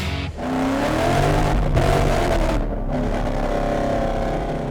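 A naturally aspirated 2018 Ford Mustang GT with bolt-ons making 500 wheel horsepower accelerates on a street, V8 roaring loud and close through rising revs with quick gear-change dips, no talk.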